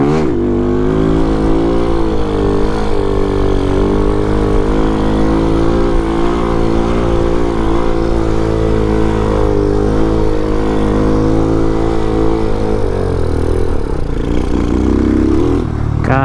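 A Vader 125 motorcycle, a small Grom-style bike, is ridden with a loud, steady engine drone that rises and falls slightly in pitch, heard continuously up close throughout.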